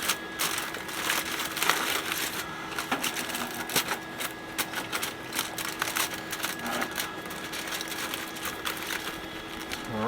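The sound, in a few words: sealing a pan with aluminium foil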